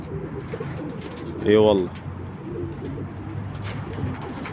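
Old Iraqi pigeons cooing in a rooftop loft on a windy day, one clear rolling coo in the middle over steady wind noise, with someone talking briefly.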